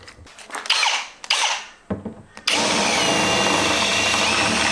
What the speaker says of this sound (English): Now this drill is bigger, slightly bigger than my bolt. Run it through next.